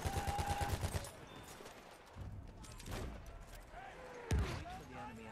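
Gunfire in the video game Battlefield 1: a rapid burst of automatic fire, then scattered single shots and a sharp crack, mixed with game voices.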